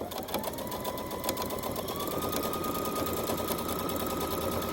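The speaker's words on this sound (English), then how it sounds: "then I'm sewing down the bottom all the way down" Sewing machine running steadily and close, stitching down the edge of a drawstring bag with a continuous fast mechanical whir and rattle from start to finish.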